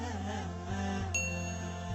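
A notification bell ding rings once about midway, its bright sustained tone ringing over a steady low hum.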